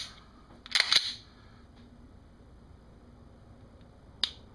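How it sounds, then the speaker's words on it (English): Aftermarket trigger connector in a Glock pistol giving sharp dry-fire clicks: a quick cluster of crisp snaps near the start, then a single short click as the trigger resets a few seconds later, close and otherwise quiet. "you'll be able to see the difference, but pull the trigger."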